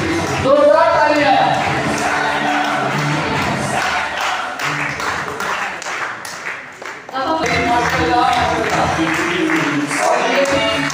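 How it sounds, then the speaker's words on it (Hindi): Loud applause from an audience at an event honouring special-needs children who became karate champions. Crowded clapping runs through the whole stretch, mixed with voices talking over it. "जोरदार तालियां"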